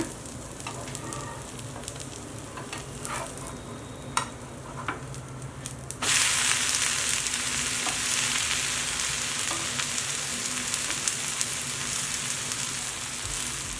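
Sambar dosa fries in oil or ghee on a pan over medium flame: quiet crackles and small pops at first, then a loud, steady sizzle once the dosa is flipped, continuing close and even with no talk.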